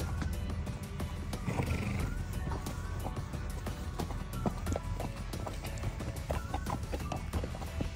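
Icelandic horses' hooves thudding and shuffling on soft ground in a paddock nearby, an irregular run of steps with scattered clucks of poultry in the background.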